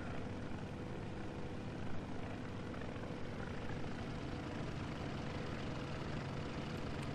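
A steady, fairly faint propeller aircraft engine drone in IL-2 1946 as the plane throttles back on final approach, an even rumbling hum with no talk over it.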